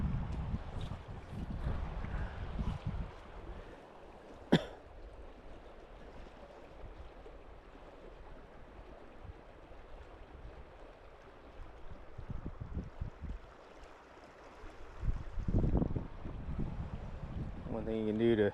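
Gusting wind rushing across a river during fly fishing, buffeting the microphone in low rumbling surges that fade and swell again, with a sharp click partway through and a voice speaking toward the end.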